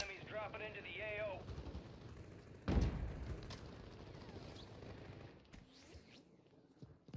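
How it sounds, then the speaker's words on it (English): Gunfire from a Call of Duty Warzone Plunder match crackles at a distance, with one louder burst partway through, all under a voice talking. "There's so much gunfire."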